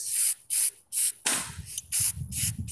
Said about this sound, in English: So I'm going to spot paint first because the paint need to be built up in these areas.